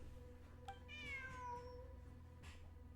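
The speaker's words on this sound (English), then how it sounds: "Look, a cat." A cat in the video game Genshin Impact gives a single clear, drawn-out meow over a low steady background hum, with no voices.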